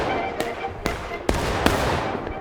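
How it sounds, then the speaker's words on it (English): Musket gunfire in a War of Rights multiplayer battle: several sharp, scattered shots crack out at irregular intervals, some nearer and louder, over a steady background din of combat, with a commentator speaking. "Just still shooting it out on this left side."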